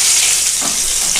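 Pieces of Shankar fish (stingray) sizzle loudly and steadily in hot oil in a pan, a dense, continuous crackle with no voices.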